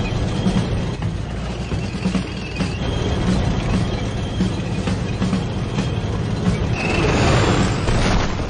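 Boom tube portal opening in the Harley Quinn animated series, a dense rumbling sci-fi whoosh that holds steady and swells louder toward the end, with no voices.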